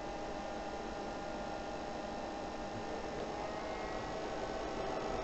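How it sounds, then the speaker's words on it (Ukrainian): Cooling fan of a PowMR hybrid inverter running while its MPPT solar input draws about 1.65 kW, a steady close whooshing hiss layered with electrical hum, swelling slightly louder near the end, with no voices. "Збільшує оберти вентилятор."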